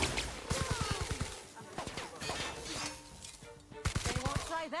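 Gunfire in The Outer Worlds, with rapid bursts of close automatic shots in several volleys, mixed with other game noises and a voice speaking.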